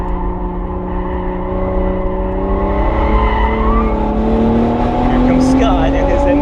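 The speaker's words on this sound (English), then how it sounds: "Here comes Scott and his M2." A BMW M2 on a race track draws closer, its engine note rising steadily in pitch as it nears, heard beneath continuous talk.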